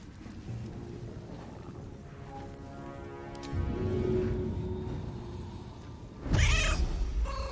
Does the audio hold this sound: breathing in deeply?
no